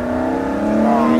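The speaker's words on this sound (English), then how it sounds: "That's how a car should sound." A BMW E36 325i with a stroker engine revving on the Nordschleife, a steady droning engine note with a strong harmonic whine that climbs slightly in pitch as it pulls, loud and close.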